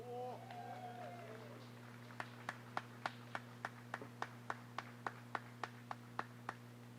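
Audience clapping at an outdoor groundbreaking ceremony for LGBTQ supportive housing: after a brief voice, sharp, evenly spaced claps begin and keep a steady, brisk rhythm over a constant low electrical hum.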